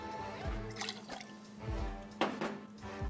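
Fresh lime juice is poured into a cocktail shaker while making a gin gimlet, giving a soft, quiet trickle with light splashes and drips, close by and with no talking.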